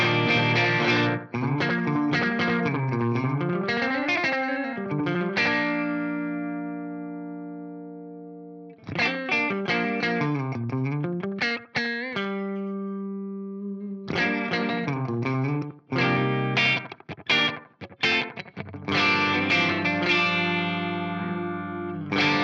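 A Boss DM-2 analog delay pedal set to a very short repeat time gives a guitar a faux spring-reverb shimmer. Several strummed chords and picked phrases ring out, with short gaps of silence between them.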